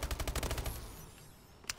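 Rapid automatic gunfire from the Call of Duty Advanced Warfare game rattles in a quick burst for under a second, then fades into a low tail with one faint later shot.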